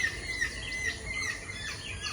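Birds call near a forest hut, thin chirps and squawks sounding at a moderate distance over a soft, steady outdoor ambience with insects, with no voices.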